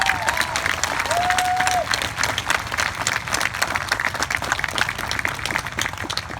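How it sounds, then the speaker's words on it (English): Dense applause from a crowd gathered at a peaceful Black Lives Matter protest, sustained and steady throughout, with a brief whistle-like tone early on. "So everybody give them a clap."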